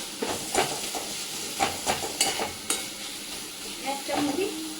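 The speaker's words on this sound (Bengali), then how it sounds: "মশলাটা ভালো করে কষাবো" Spice paste for a crab curry with cauliflower and potato frying in a pan and being stirred, with steady sizzling and hiss broken by repeated scraping strokes of the spoon, close and fairly loud, no talking.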